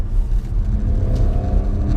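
Audi RS6 Performance estate accelerating hard through its upper rev range, a loud, steady, deep engine rumble with a continuous low roar and no break in tone over two seconds, heard alone without any talk.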